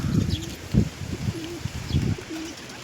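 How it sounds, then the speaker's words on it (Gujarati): Several pigeons coo nearby in short, soft, rolling bursts, overlapping with brief higher chirps. "બધા કબૂતર આવી જાય છે ને પાણી પીવે છે બધા"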